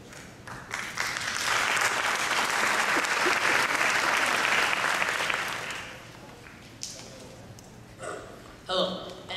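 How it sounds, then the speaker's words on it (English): Audience applause for a middle school brass quintet fills the room as sustained clapping that swells, holds for several seconds, then fades to scattered claps. "Give him a round of applause."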